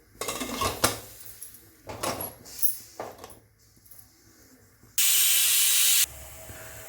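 A pressure cooker whistles while cowpea curry cooks, a steady loud hiss holding for about a second near the end, after scattered clinks and rattles of pots and utensils in a kitchen.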